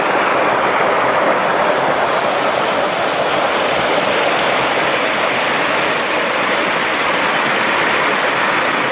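A small forest stream running down from higher ground beside a woodland path near railway tracks in the Hönne valley, a steady close rushing and splashing wash of water, continuous and even with no voices.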